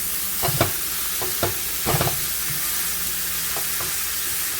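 Ground beef fries in a pan with a steady, close sizzle, broken by several scraping stirs of a utensil across the pan bottom. No one speaks.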